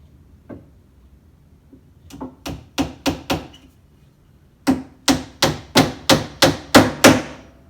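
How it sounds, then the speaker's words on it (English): A small trim hammer strikes in sharp, woody knocks: a few scattered hits, then a steady run of about ten evenly spaced blows, loud and close with short pauses between. "Doesn't say anything on there, but it's a little trim hammer."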